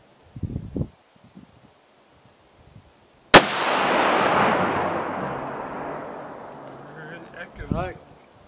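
A single loud, sharp hunting rifle shot fired while sighting in deer rifles outdoors, its boom decaying slowly over several seconds, with brief voices and rustling before and after.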